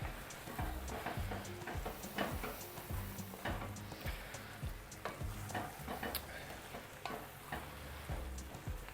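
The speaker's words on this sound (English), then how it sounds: "we'll mix those into the pan" Drained, rinsed beans are tipped into a busy pan for feijoada and stirred, giving steady sizzling and frying noise with repeated scraping and clunking stir strokes throughout.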